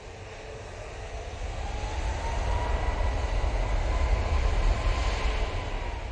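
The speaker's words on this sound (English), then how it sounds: "Oh, rejected takeoff. Rejected takeoff." An airliner aborts its takeoff at Manchester Airport, a broad, distant jet engine roar that builds steadily in loudness and then holds near its peak before easing slightly.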